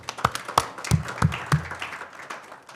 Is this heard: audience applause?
yes